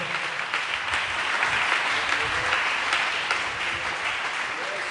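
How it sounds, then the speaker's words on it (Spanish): A church congregation at a Spanish-language service gives dense, sustained applause, a continuous wash of many hands clapping together for several seconds. "Dele un aplauso fuerte al Señor Dios Todopoderoso."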